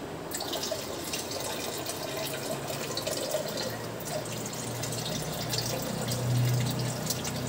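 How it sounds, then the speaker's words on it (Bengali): Water is poured into a fish aquarium, a steady close splashing and trickling that runs on without pause, with no voices. "এবার দেব জল"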